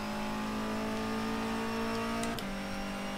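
A Civic race car engine in rFactor 2 holding a steady, slightly rising drone, then briefly easing as the revs dip near the end, close and continuous.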